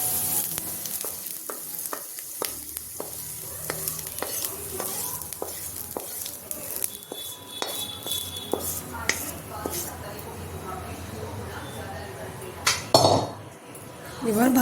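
Onion sizzles and fries in a pan while a spoon stirs and scrapes, with repeated clinks against the metal during kochu chokha preparation; a soft voice is heard at times.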